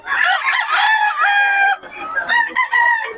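Gamefowl rooster of the Golden Boy bloodline crowing loudly and close, two long drawn-out crows back to back filling the clip, with no talk over them.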